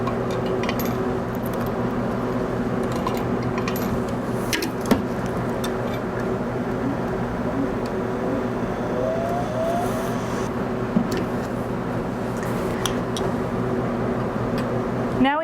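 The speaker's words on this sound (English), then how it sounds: "Give the tubes a little shake and centrifuge for 15 seconds on high speed." A laboratory centrifuge spins blood typing tubes on high speed, giving a steady, continuous whirring hum that holds evenly from start to finish with faint clicks and no talking.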